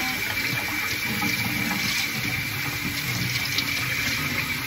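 Milkfish (bangus) being washed under a running kitchen tap, a steady broadband gush of water splashing over the fish for the whole stretch, close and continuous with no talk.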